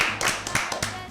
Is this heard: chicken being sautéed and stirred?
no